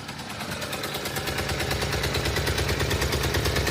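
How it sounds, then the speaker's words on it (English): Round-eye Suzuki Carry dump truck engine running rough with a slight exhaust leak, giving a steady, rapid low chuffing and popping pulse, close and fairly loud, with no talking. "It does have a slight exhaust leak. I can look to see if maybe they can patch it up or fix that, but that could be why it's also running a little rough."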